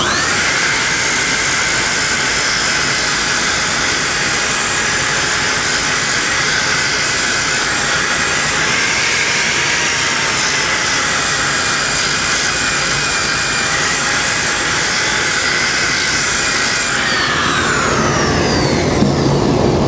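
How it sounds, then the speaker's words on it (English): A disc sander runs with a dust collection jig, producing a loud, steady whirring roar with a high tonal whine that lasts throughout and then drops in pitch as it spins down near the end. "if I sand with this edge, because of the rotation of the disc, now watch what happens."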